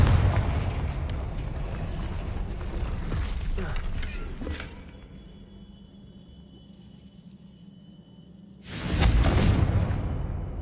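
A Confringo spell bursts in Hogwarts Legacy with a loud rumbling boom and crackling blasts, fading to a quiet lull before another heavy explosive roar erupts near the end; a voice calls out amid the action.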